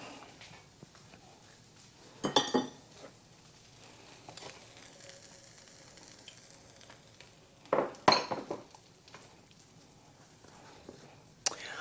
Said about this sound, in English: they're getting really good and creamy. Just give them a little stir